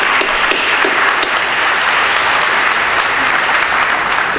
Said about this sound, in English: Just give them applause.